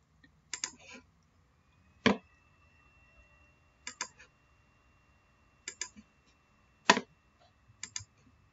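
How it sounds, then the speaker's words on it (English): Mouse clicks from dividing boxes on a computer screen, heard as short sharp ticks in pairs and small clusters spaced a second or two apart, close and crisp over a quiet room. "So I'm still just clicking, dragging, clicking again"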